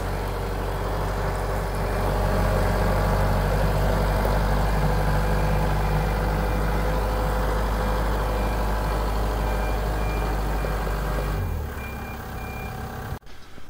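A small tractor engine idling, a steady low loud rumble that holds for about eleven seconds before dropping off as it shuts down.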